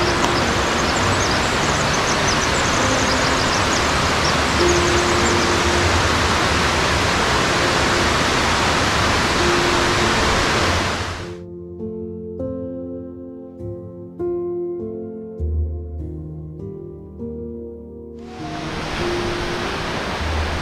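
A waterfall at the end of a short hike gives off a steady, loud rushing hiss. It breaks off for several seconds while music plays, then returns just as full.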